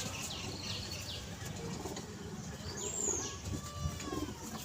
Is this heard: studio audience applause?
no